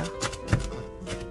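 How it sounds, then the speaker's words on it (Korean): A knife chops a ripe tomato, skin on, into small pieces on a board, giving several quick soft taps close by with one firmer thud in the middle. "잘 익은 토마토 하나도 껍질째 작게 다져주세요"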